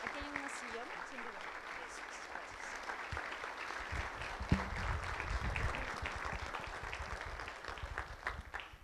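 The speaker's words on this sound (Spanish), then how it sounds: "Muchas gracias por el aplauso a Rodrigo." Audience applause fills a conference hall after a human rights protocols presentation, a steady dense wash of many hands clapping throughout, fairly distant and even in level.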